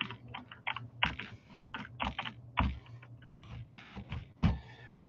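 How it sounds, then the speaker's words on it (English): A web address is typed on a computer keyboard as a close, crisp run of keystrokes with an uneven rhythm and brief pauses, with no talk. "if I go up here and just type foodnetwork.com"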